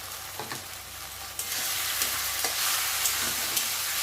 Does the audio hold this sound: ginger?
yes